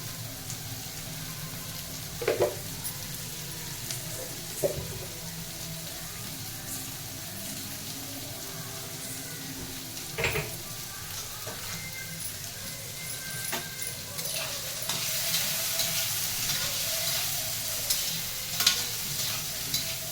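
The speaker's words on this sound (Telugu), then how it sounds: "ఈ ఉల్లిపాయలు కొంచెం వేగేయి అని మనకు అనిపిస్తే చాలు." Onions for a bacchali leaves curry sizzle steadily in a pan, a soft continuous frying hiss broken by occasional spoon clinks and stirs.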